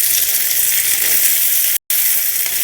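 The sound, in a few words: chilies frying in oil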